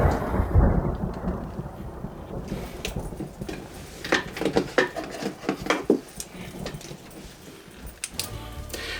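Thunderstorm sound effect: loud rolling thunder with heavy rain and sharp crackling bursts, continuous and close throughout, with no talk.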